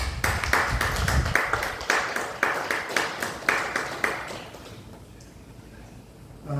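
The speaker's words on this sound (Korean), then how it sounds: "우리 상주되는 분 박수로 한번 인도하도록 하겠습니다" Scattered, uneven clapping from a church congregation, a few distinct claps in a loose rhythm that thins out and fades to near silence toward the end.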